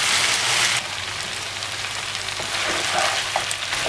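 Meat frying in a covered pan for rice and fried meat, a steady dense sizzle with faint crackles and pops, close and loud with no talk.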